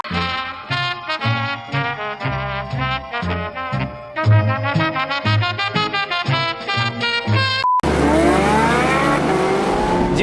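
A Porsche 918 Spyder hypercar (887 hp) accelerates hard, its engine climbing through rising revs in repeated gear pulls, loud and close, then a sweeping high-pitched whine as it speeds on.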